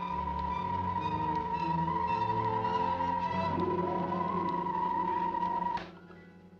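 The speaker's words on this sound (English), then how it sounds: "That sound is the high-frequency thromium waves radiating through the coil resistor." Science-fiction machine effect of waves radiating through a coil resistor: a sustained electronic whine over low droning tones and shifting hums, steady for several seconds before cutting off abruptly.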